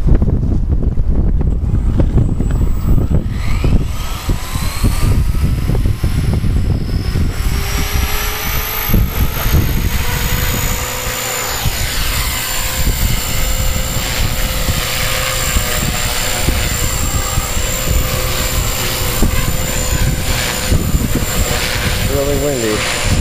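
An EXI 250 RC helicopter fitted with a JR G270 3D gyro flies outdoors in windy conditions, giving a continuous loud rotor whine with shifting pitch over steady wind buffeting on the microphone.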